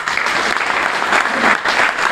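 Steady applause from a crowd at a political speech, continuous dense clapping at moderate loudness throughout with no pause.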